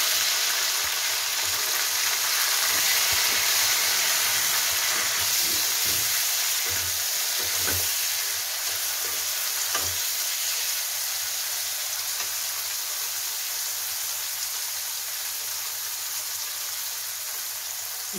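Chopped tomatoes sizzle and fry in a pan with cashews for a no-garlic, no-onion matar paneer curry, a steady close frying hiss with small pops and stirring clatter throughout.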